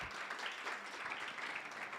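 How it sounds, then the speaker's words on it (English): Audience at a G20 bioeconomy meeting clapping to welcome a speaker, a steady wash of many hands throughout, moderately distant and fairly soft, with no voices over it. "Please welcome him with a clap."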